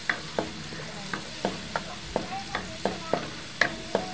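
Garlic frying in a pan under a steady soft sizzle, with regular light clicks of a spatula stirring at roughly half-second intervals, close and fairly quiet, with no voices.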